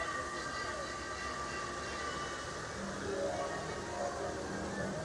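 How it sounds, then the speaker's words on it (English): A train passing at Disneyland at night, heard as a steady rumbling, clattering rail sound with some tonal whine, while voices talk underneath. "That's the train I should have been on."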